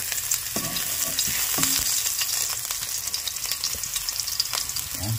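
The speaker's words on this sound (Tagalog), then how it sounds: "Gisa natin yung luya." Ginger sautéing in a little cooking oil in a pan, a steady close sizzle with occasional clinks and stirring scrapes, no talking.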